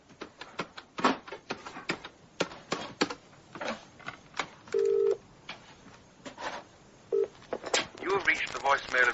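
A bedside telephone being dialled in a radio drama, a run of short dial tones heard among clicks and handling noises, with people talking over it.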